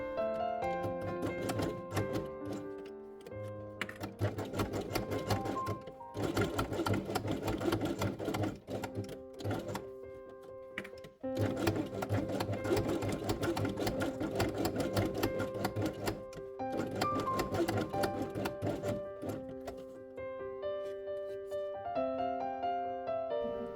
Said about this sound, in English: Then sew both elements along the edge with yellow thread.